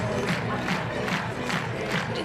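A crowd at an outdoor athletics long jump event in Innsbruck cheers and chants in rhythmic, pulsing bursts, a loud, dense roar that carries on throughout.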